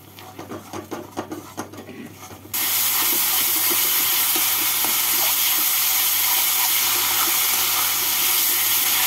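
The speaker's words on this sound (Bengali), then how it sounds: "এবার মশলাটার কাঁচা গন্ধ চলে না যাওয়া পর্যন্ত মশলাটাকে ভেজে নেব।" Masala paste for doi katla is fried in a pan. A few seconds of quiet scraping and stirring give way to a sudden loud, steady hiss of sizzling that continues unbroken, close, with no speech.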